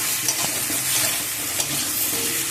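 Potatoes tossed with salt in a pan for a fish curry, stirred and fried steadily: continuous close sizzling and frying with light scraping stir strokes throughout, with no one speaking.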